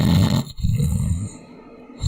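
A voice imitates loud snoring, with two or three deep, rough rattling breaths in a slow rhythm, close and dominant, separated by brief pauses.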